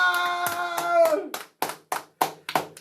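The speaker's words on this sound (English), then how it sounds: "Let's clap it up." Several loud, close hand claps in a quick uneven rhythm in a small room. They follow a stretch of voices and music at the start.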